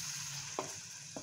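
A utensil stirs an egg and vegetable mixture in a frying pan, two quick scraping strokes over a steady low sizzle, close and fairly quiet with no voices.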